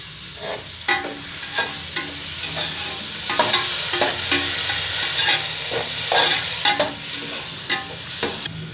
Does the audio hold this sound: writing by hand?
no